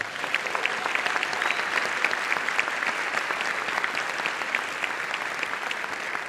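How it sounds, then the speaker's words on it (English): A concert audience gives a band a sustained round of applause, with crisp, even clapping filling the hall from start to finish and only faint voices beneath. "Let's give them another round of applause."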